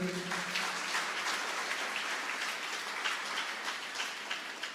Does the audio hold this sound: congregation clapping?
yes